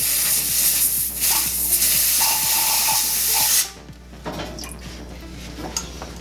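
Bubbling, hissing cleaning fluid percolates through an Iwata LPH 80 spray gun: a steady loud airy spray rush for several seconds, then an abrupt drop to softer gurgling and sputtering bursts, with no talking.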